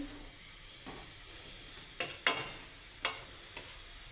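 Cabbage sabzi stirred and mixed in a pan, a soft low sizzle broken by several distinct spoon scrapes and clinks against the metal, quiet and close.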